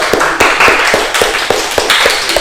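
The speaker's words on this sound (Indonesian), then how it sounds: "Tepuk tangan bagi kita semuanya anak-anak" Children in an Islamic religious education class clap their hands together, a run of sharp, fairly close claps in a loose, uneven rhythm with faint voices underneath.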